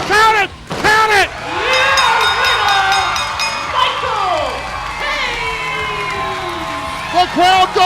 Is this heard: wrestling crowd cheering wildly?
yes